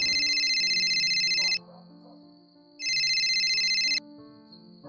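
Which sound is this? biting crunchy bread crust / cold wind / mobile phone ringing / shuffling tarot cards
mobile phone ringing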